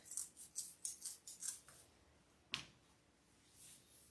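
Scissors snip rapidly through Halloween witch's brew wreath material in a quick run of six or seven crisp cuts, then a single sharper snip after a pause, faint and close.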